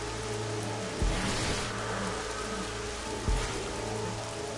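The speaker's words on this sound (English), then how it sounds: "Wait, is it raining or is it raining?" Steady rain hisses in a video game, a constant broad wash of falling water with two short low rumbling thumps breaking through, heard alone without voices.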